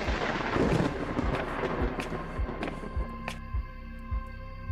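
Thunder from a lightning strike in the horror comedy video game Invasion of The Halloween Fiends: a loud, broad rumble that eases down, punctuated by several sharp, booming thuds.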